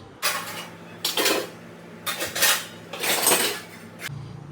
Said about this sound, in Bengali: বিরিয়ানিটা গরম হতে থাক ততক্ষণে বাসন কোসন কিছুটা গুছিয়ে ফেলি